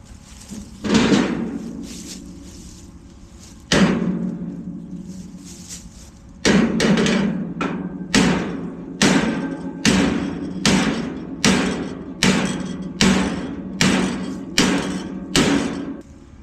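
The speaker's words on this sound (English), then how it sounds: "I'm gonna whack it with a hammer" Loud metallic hammer blows on a Big Tex trailer's metal ramp: a few spaced strikes, then a steady run of about a dozen evenly timed whacks ringing close by.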